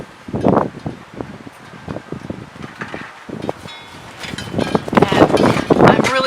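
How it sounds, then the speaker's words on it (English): Strong outdoor wind gusting around a heavy canvas during a fluid acrylic pour, a rushing, buffeting roar that swells in bursts and grows loudest toward the end, mixed with some voice. "obviously it's crazy here for the wind"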